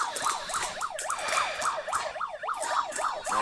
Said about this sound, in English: There's only stupid sirens like drowning out everything